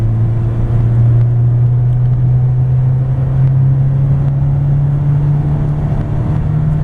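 A 1996 Ford Ranger XLT with a 4-cylinder engine and five-speed manual pulls hard in third gear, a loud, steady engine drone rising slightly in pitch over several seconds with heavy road and wind rumble beneath it.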